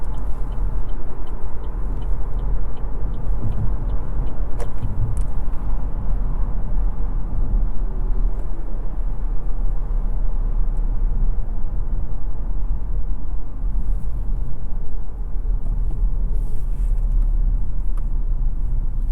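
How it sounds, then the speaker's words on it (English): Steady low road rumble and faint wind fill the cabin of a 2024 Chevy Trax 2RS cruising on a highway, an even, continuous drone with no voices. "just driving around on the highway, the cabin is pretty calm and chill"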